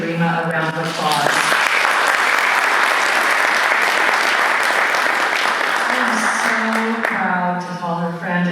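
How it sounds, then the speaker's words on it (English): Applause from an audience at a speaker's corner event on human trafficking swells after a brief spoken introduction, holds steady and loud for several seconds, then fades as the speaker's voice returns. "Can we all just give Rima a round of applause?"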